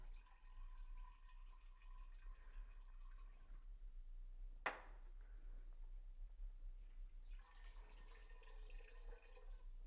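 Kiwi juice drips and trickles faintly from fruit bags lifted out of a wine fermenter, a soft continuous watery patter over a low steady hum, with one brief sharp click midway.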